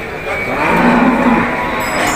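A Gir cow moos at a busy Dhule cattle market for HF and Jersey cows, one drawn-out low call rising over steady crowd and market noise.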